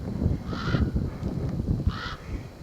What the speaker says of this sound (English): You hear the crows grabbing at me.